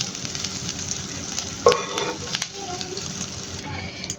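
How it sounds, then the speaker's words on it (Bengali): Chicken pieces frying in oil in a pan while being turned, for chicken pasta; continuous close sizzle with a sharp clatter of the utensil partway through and scraping stir sounds, no talk. "চিকেনটা রাখতে কয়েক মিনিট ধরে এভাবে উল্টে পাল্টে ভেজে নিয়েছি"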